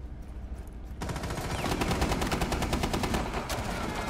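Rapid automatic gunfire in a competitive shooter video game, dense continuous bursts of shots that start abruptly after a quieter moment and stay loud and close, with no talking over them.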